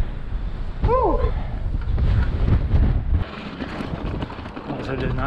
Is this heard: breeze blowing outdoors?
yes